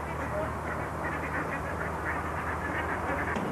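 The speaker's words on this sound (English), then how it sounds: "But back on the canal, only the ducks squabble now." Ducks squabbling on the Kennet and Avon Canal, a dense, continuous chorus of quacks and honks close by with little break, and a faint voice underneath.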